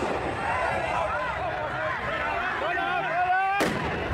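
Sharp firecracker bangs burst over a noisy crowd of shouting voices at a street demonstration with police lines, with one loud crack near the end.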